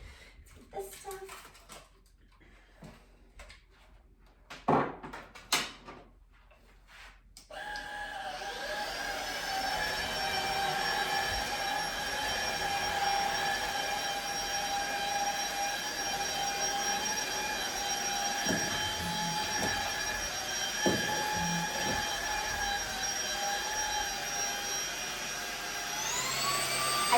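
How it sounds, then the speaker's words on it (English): A YOKEKON cordless stick vacuum cleaner starts up after some handling noises, then runs with a steady high-pitched motor whine close by, its pitch stepping up as suction is increased, with brief bumps along the way. "You can increase or reduce the speed of the vacuum."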